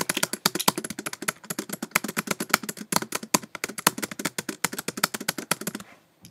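A computer keyboard spacebar pressed over and over in a fast, steady stream of sharp clacks, loud and close, stopping abruptly near the end.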